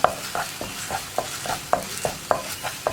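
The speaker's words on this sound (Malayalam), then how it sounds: "ഇനി ഇതെല്ലാം ചേർത്ത് നന്നായിട്ടൊന്ന് വഴറ്റിയെടുക്കുക." An onion mixture for pumpkin curry sautés in a pan with a soft sizzle. A spatula scrapes the pan in quick, regular strokes, about three per second.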